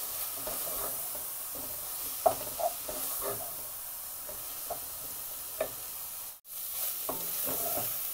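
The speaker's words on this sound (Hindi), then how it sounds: "सारा पानी अच्छी तरह खुश्क कर लेंगे और भून लेंगे" Beef qeema fried with cumin, coriander powder and garam masala, a steady sizzle running throughout with scattered scraping knocks of a spoon stirring the pan, close up.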